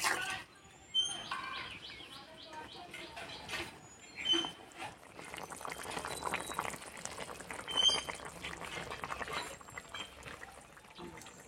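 A thin silver fish curry with potato and ridge gourd simmers in a pot, giving a steady low bubbling hiss with faint clinks throughout, no voices over it.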